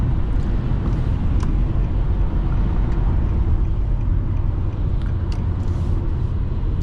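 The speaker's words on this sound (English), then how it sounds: "so most of what you're hearing is the engine roar" Steady engine roar from inside a moving 2011 Infiniti G37x sedan, a continuous low rumble with faint road and wind noise, loud and unbroken.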